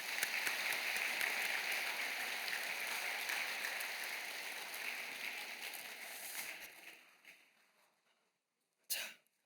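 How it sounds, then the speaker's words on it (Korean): A church Bible-college class audience claps together, a full round of applause that gradually thins and fades out, followed by a short sharp noise right at the end. "우리 옆에 계신 분들 한번 보시면서 축복하며 박수 쳐주겠습니다"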